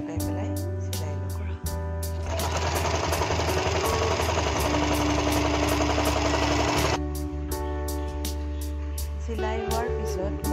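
An electric sewing machine runs a steady, loud mechanical whir as it stitches the folded-over edges of a net table cloth on all four sides, continuous for several seconds and then stopping, with intermittent clicks before and after.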